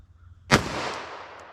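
A single sharp gunshot from a Glock 41 pistol firing .45 ACP semi-wadcutter rounds cracks out loud and near, followed by a decaying outdoor echo.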